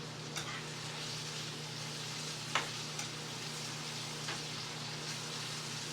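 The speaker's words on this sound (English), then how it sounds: "I'm going to fry them up to go with my curry" Flat bread fries in a shallow pan of oil with a steady, even sizzle. A few faint clicks and taps sound over it, and there is no talking.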